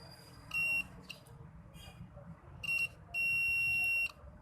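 Sharp electronic buzzer beeps from a mobile phone speaker under an analog meter test, sounding as two short bursts and then a longer sustained tone over a low background hum.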